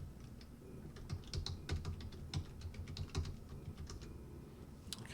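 A password typed on a computer keyboard, a quick, uneven run of soft, close key clicks over a quiet background, no talking.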